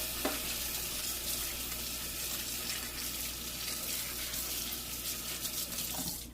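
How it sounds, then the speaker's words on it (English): Hot water runs steadily from a tap for hand-washing a greasy plastic item with dish soap, a continuous close splashing hiss with no talking. "This thing has grease on it, so we're going to have to use some hot water for it."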